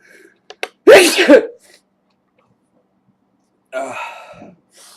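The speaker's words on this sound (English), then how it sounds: "now I got a sneeze coming on" A few quick sharp inhales build into one loud sneeze, followed by silence and then a brief exhaled sigh or breath.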